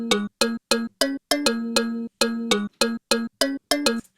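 A kalimba-like bass sample run through Corpus resonance and a phaser plays a short sequence of about a dozen plucked, ringing notes with a hollow metallic tone, evenly paced, loud and up close with no voices.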